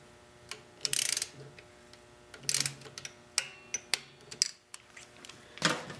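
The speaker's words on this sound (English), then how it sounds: "The brake pad pin should be tightened between 75 and 102 inch-pounds. I'm going to tighten it to 80 inch-pounds." Wrench tightening the rear brake pad pin on a 2008 Harley Davidson motorcycle, heard as faint, close metallic clicks and ratcheting ticks in short irregular bursts with quiet gaps.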